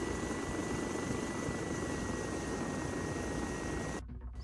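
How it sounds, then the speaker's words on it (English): Steady video game helicopter rotor drone with a constant engine whine as it approaches, holding at even loudness and then cutting off abruptly near the end. "So the helicopter's coming in."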